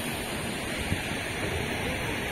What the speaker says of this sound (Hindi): यहाँ पे सामने ये पानी की पुवार है